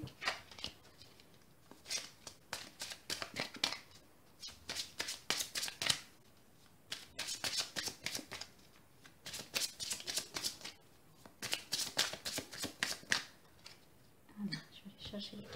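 Tarot cards being shuffled in repeated riffling bursts, crisp and close, with short pauses between rounds and faint handling noise.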